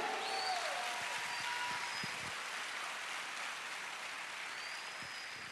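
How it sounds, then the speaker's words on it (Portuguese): A church congregation bursts into sustained applause after a sermon, a dense, even wash of many hands clapping at moderate distance with a few high whistles over it and no speech. "Aleluia! Pode aplaudir."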